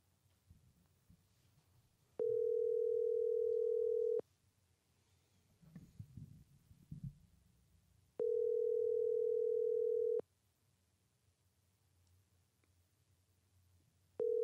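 A telephone line tone sounds while a call is placed to a podcast guest: steady two-second beeps repeat at regular intervals, with a brief burst of faint rustling and handling noise between them.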